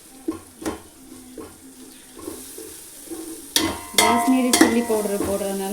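Kashmiri chilli powder fries in hot oil for a chicken dum biryani, sizzling under a spoon that scrapes and stirs the pan in irregular knocks, the frying growing louder and busier toward the end.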